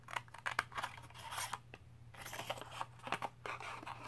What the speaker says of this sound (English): I'm going to take our little snips, and I am going to cut